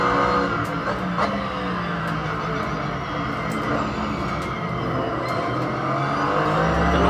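A race car in Assetto Corsa on Xbox One drops to second gear coming out of a chicane. Its engine drones loud and close throughout, with brief gear-change dips and faint tire squeal.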